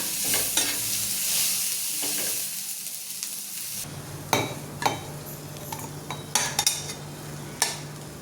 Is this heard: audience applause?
no